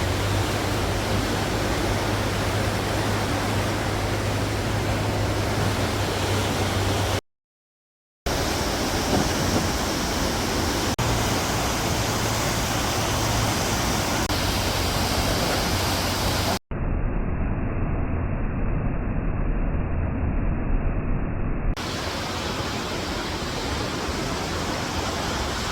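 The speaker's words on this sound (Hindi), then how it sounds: "नदियों की लहरों की आवाज़ में" Rushing river water at the Devprayag confluence, where the Ganga begins, makes a steady, dense roar. The sound cuts out briefly twice and is muffled for a few seconds, with no voices.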